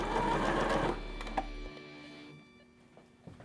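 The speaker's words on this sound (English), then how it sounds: "I'm also sewing the side seams of the shirt now" Sewing machine stitching the side seams of a shirt, a fast close mechanical whir for about a second that then stops, leaving faint clicks and handling noise.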